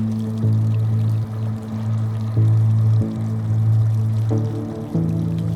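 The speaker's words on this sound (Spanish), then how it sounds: "aquí se ve cómo está recorriendo el agua" Rainwater on a cloudy day near Horseshoe Bend in Arizona, running down rock into a small waterfall with a continuous close pouring rush and no talk.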